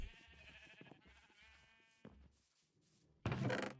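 Minecraft sheep farm with a few quiet bleating sheep, short wavering calls separated by gaps, ending in a sudden louder bleat, no voices present.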